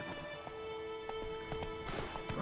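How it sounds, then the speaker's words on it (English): Horse hooves clip-clop at a steady trot in The Witcher 3: Wild Hunt, quiet rhythmic thuds over faint game ambience, with a soft whinny-like sound mixed in. "Stupid horse."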